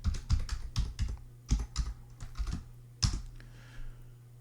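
Password keys tapped on a computer keyboard during a Zorin OS 15 Lite login, a close run of irregular, crisp clicks in small bursts with short pauses, ending on a firmer keystroke.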